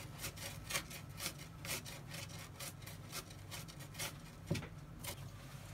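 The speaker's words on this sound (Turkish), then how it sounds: "2 tane soğan doğruyoruz." Two onions being finely chopped with a knife on a cutting board, a steady run of quick, crisp cuts at close range, with no talking.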